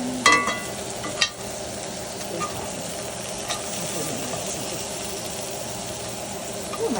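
Meatballs fry in a pan for a meat sauce, a continuous sizzle with a few sharp clatters as they are turned, plus a low background hum.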